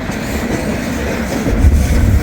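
A freight train of gondola cars loaded with old railroad ties rolls past at close range, giving a steady rumble and rattle of wheels and cars that grows heavier toward the end.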